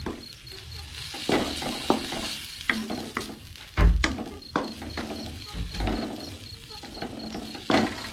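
Leftover food reheating in a pan with broth added at dawn, a steady low simmer and sizzle with scattered stirring clinks and scrapes of a utensil against the pan, fairly close, with no talk.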